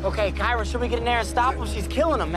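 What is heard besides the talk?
No distinct noise like a dog, phone or traffic.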